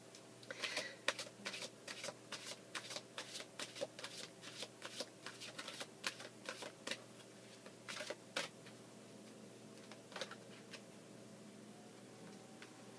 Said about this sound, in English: let's pick you a romance angel card